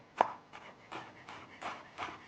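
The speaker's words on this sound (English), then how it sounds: "hold it really firmly down against the chopping board, and then we're gonna like finely chop it." A knife finely chops parsley on a chopping board, giving about six soft, close, evenly spaced taps in quick succession in a quiet room.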